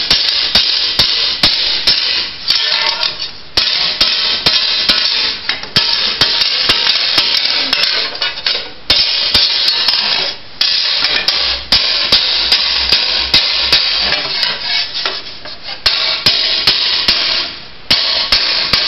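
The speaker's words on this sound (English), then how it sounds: "just keep hammering it down" Heavy metal frame part being hammered out: sharp, close metal-on-metal blows land in a steady rhythm, with a few short pauses between runs of strikes.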